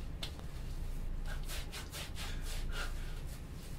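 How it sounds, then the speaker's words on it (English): Beard balm being rubbed into a beard by hand: a close, continuous soft scratchy rubbing with repeated hand strokes, no speech. "You can just go ahead and rub it on."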